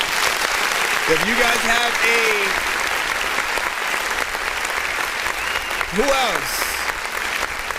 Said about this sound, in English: Let's give him a round of a freaking applause with some of the stuff.